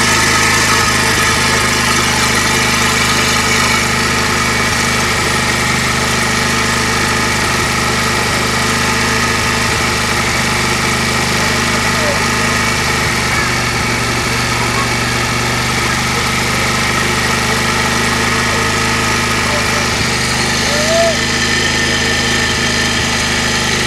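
Bajaj Pulsar 125 BS6 motorcycle engine idling at around 3000 rpm, a steady, loud mechanical drone that holds an even pitch throughout without revving up or down.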